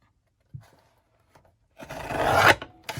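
A few light taps, then a close rasping scrape of paper being cut for journal pages, ending with a small rustle.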